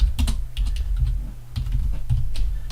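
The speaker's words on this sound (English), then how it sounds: "So I want to type in Creola Ruffin" Quick bursts of keystrokes on a computer keyboard as a name is entered, close and clear, with short pauses between runs of clicks.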